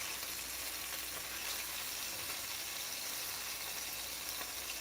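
Lemon pepper chicken frying in a pan, a steady hissing sizzle with fine spattering throughout, close and even with no talking.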